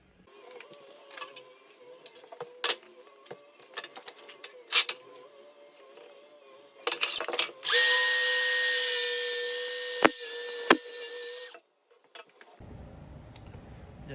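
A saw cuts TimberTech composite railing pieces, a loud sustained cutting whine of several seconds, preceded by scattered knocks and clicks of handling and followed by quieter rustling.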